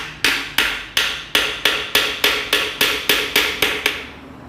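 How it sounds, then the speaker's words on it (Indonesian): Steady series of about twelve sharp hammer blows on a metal part of a Honda Tiger motorcycle during engine repair, each strike crisp with a short ringing decay, evenly spaced and fairly close. "tetap ya Lekmono menggunakan palu"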